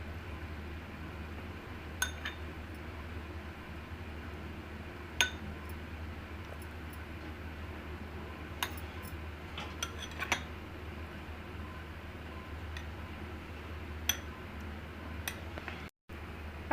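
Watermelon tutti frutti pieces stirred in a glass bowl give off scattered light clinks and taps against the glass. The clinks come at irregular moments over a steady, quiet room hum.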